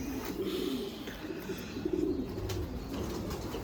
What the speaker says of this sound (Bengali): এই কবুতরটা জাতের দিক দিয়ে একটা ব্লিজার কিং কিটেল